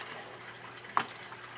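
Water flows down through a valve into the gravel of an aquaponics grow bed as a faint, steady trickle, with one brief click partway through.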